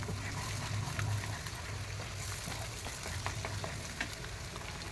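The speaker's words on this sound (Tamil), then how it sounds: "நான் இதிலே போட்டு வறுத்துக்கிறேன்" Eggs fry steadily in a pan with a continuous close sizzle and faint scraping stirs, as for capsicum egg rice; no voices.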